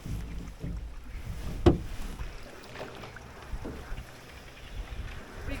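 A canoe moves through lily pads on a lake. Soft paddle strokes and water swishes come close to the microphone, with one sharper knock of a paddle against the hull, under light wind.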